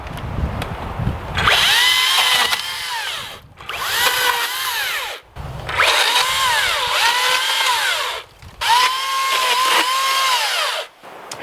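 A power tool, likely a chainsaw, trims tree limbs at head height around a winter truck campsite in four loud, sustained bursts separated by short pauses, the pitch rising and falling as the blade bites.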